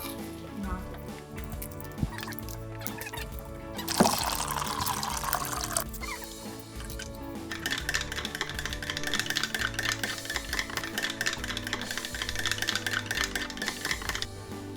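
Sugar from a packet is stirred into a cup of water at a kitchen table, with soft clinking and liquid swirling at low volume while people talk in the background.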